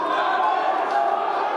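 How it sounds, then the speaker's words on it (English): Spectators at a high school wrestling match between Hudson Raiders and Chippewa Falls cheer and shout from the stands, a dense, steady crowd roar with no breaks across the brief moment. "Crowd is cheering on McSwain"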